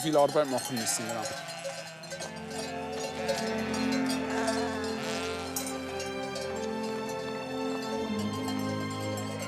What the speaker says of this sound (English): The Valais black-nosed sheep are perfect for high altitudes.